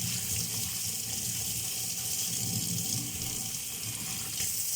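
Tap water runs into a sink as washed hands are rinsed, a steady, even splashing stream heard up close and on its own.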